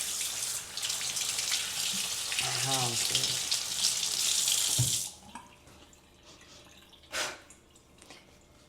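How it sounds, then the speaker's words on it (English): Kitchen tap running into a sink while hands are washed after handling garlic, a steady close splash for about five seconds that cuts off, followed by a few quiet drips and small clatters. "Let's wash our hands."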